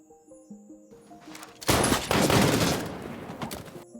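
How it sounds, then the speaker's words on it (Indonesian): A burst of rapid gunfire erupts over faint tonal background sound, a dense roaring volley lasting a couple of seconds before fading. "ternyata Madi malah menembak salah satu tentara tersebut"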